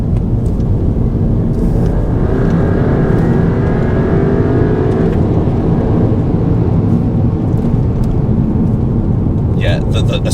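A Volkswagen Golf GTI Mk7 with a software tune accelerates hard in second gear on an open road. The engine drone rises steadily under heavy cabin and road roar, close and loud throughout, with faint chatter near the end.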